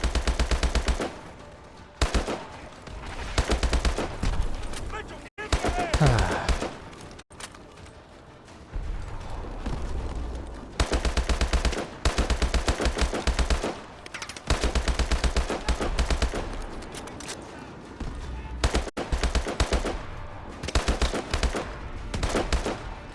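Loud, close automatic gunfire from Call of Duty: Advanced Warfare on Xbox 360 comes in long rapid bursts separated by brief gaps, with sharp single shots and explosive thumps.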